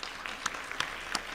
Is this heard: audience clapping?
yes